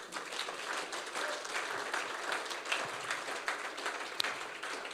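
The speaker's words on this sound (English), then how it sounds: "Let's clap for Architect Kelechi." An audience applauds an architect at an architecture exposition, with steady, even clapping from a crowd lasting throughout at moderate volume and a few sharper claps standing out.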